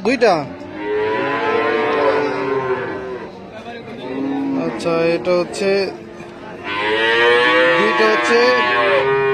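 Cattle at the Hazratpur cattle market, bellowing in long, loud moos close by, one at the start and another near the end, with people talking and crowd chatter mixed in.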